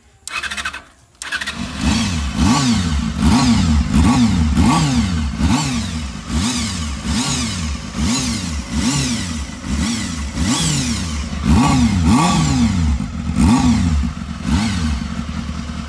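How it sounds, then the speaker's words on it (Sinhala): A second-hand motorcycle fitted with its original K1 silencer revs loudly and repeatedly after a brief start, each throttle blip rising and falling in a steady rhythm close to the microphone, with no talking. "ඉතින් අපි බලමු ඔරිජිනල් K1 සයිලන්සරේ ටෝන් එක"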